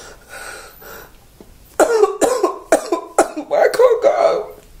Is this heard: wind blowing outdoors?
no